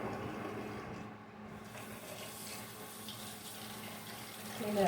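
Cold water running into a bowl while rinsing chicken in a home kitchen, a steady soft splashing trickle throughout, fairly quiet and close, swelling slightly at the end.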